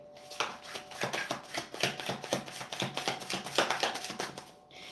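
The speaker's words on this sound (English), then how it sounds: "so I want to give this a good shuffle" Tarot cards are shuffled up close in a quick, irregular series of soft riffling slaps and flutters, fairly quiet, with no talking over them.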